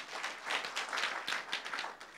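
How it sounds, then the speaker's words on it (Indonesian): A church audience claps during a sermon service, loud overlapping applause with distinct claps surging and easing in waves across the whole stretch. "Beri tepuk tangan sekali lagi."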